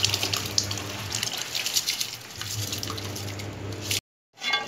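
Rice is poured into boiling water in a pressure cooker, giving a steady watery hiss and patter with a low hum beneath, cut off abruptly near the end before resuming briefly.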